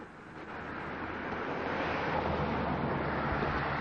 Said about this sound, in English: Little waterfall over there.